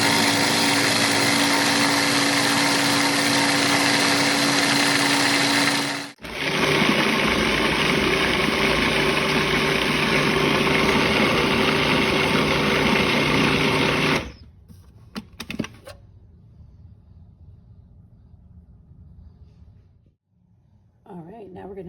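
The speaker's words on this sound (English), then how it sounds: "take your cottage cheese, put it in the food processor" A food processor blending cottage cheese runs with a loud, steady motor whine that shifts pitch partway through, then stops, leaving quieter scraping and handling sounds close by.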